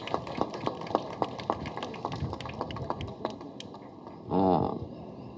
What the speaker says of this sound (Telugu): అంటే చప్పట్లు కొట్టమని.